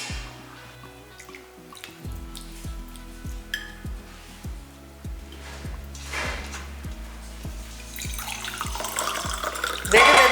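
Water poured from a pan into chole poori dough, a gurgling pour with a string of rhythmic drips and splashes building toward a louder stream at the end, heard alone.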